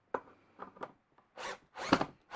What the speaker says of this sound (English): I need to tighten those screws up just a little bit more.